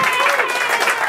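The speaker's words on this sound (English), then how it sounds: "Let's give him a round of applause." A crowd at a televised open-microphone political event applauds steadily, a dense burst of clapping that fills the whole moment at moderate loudness.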